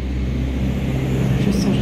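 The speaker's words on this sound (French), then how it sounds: "J'espère que vous n'entendez pas les camions passer là" Trucks and a tractor pass on a road outside, heard as a steady, loud low rumble of engines throughout, with a voice speaking over it.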